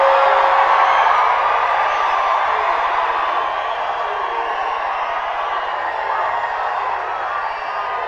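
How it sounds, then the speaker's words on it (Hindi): Large outdoor rally crowd at a stadium public meeting in Hyderabad roars and cheers, a steady, dense wash of distant voices and applause that holds at high volume throughout. "माधवी के लिए सब लोग ताली बजाओ भाई"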